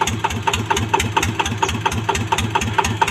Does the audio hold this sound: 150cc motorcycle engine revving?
yes